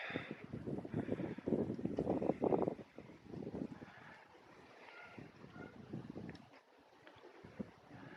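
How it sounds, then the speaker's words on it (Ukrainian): Gusty wind buffets the microphone in strong rushing bursts, easing off toward the end; nobody speaks. "Вітер донизу давить."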